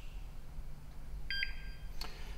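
Atmospheric gas monitor used for confined-space rescue, pentane-calibrated, sounds a short electronic alarm beep followed by a second brief tone, faint over steady low background hum.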